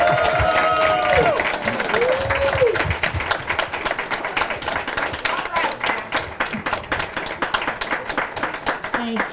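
Audience applause at a senior expo, sustained clapping from a sizeable crowd with a few cheers early on, thinning into scattered claps toward the end.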